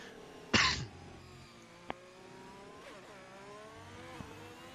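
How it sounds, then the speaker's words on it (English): A single sharp cough near the microphone, with a short throat-clearing tail, during a sim-racing broadcast, followed by a faint tap and a low steady hum with distant engine-like tones. "even though I don't have COVID, I still have a cough"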